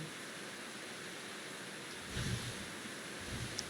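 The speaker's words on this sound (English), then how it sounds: "It started to rain." Rain in the video game Slow Damage makes a soft, continuous hiss of falling water with a faint low swell partway through, quiet and without talking.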